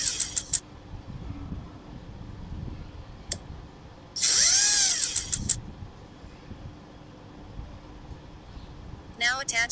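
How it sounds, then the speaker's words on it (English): Drilling a hole in the lower part of a fractured bone during an orthopaedic surgery video game, a steady whirring burst of a few seconds amid sparse clicks and game effects, with a voice speaking over the scene. "Drill a hole on the lower part on the bone."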